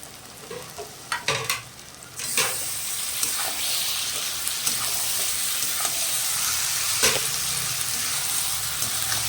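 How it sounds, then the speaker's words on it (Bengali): Spice paste sizzles and fries steadily in a pan for a katla fish curry with onion and potato, with a few clattering stirs at the start before a continuous loud hiss. "এবার ভালো করে মশলাটা আমি কষাতে থাকবো"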